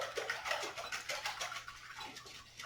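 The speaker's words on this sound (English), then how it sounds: "about a cup of milk. And we're going to whisk that together" Eggs and milk whisked together in a bowl for French toast batter, a quick rhythmic series of close, soft scraping strokes throughout.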